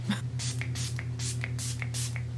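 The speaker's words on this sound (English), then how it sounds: "I always do a test spray." A makeup setting spray is given a test spritz, then several short airy bursts follow at an even rhythm, close and fairly loud over a low steady hum.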